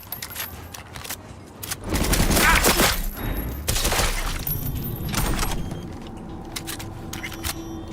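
Gunfire in the video game Cyberpunk 2077: a loud, dense volley of shots swells for a few seconds, then fades into quieter scattered rattles and background noise.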